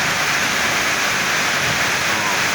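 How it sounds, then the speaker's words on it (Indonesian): Rain falling steadily outside a motorbike repair workshop, a dense, even hiss that fills the whole stretch without any break, loud and close, with no voices over it. "Gak apa-apa hujan, walaupun hujan terus"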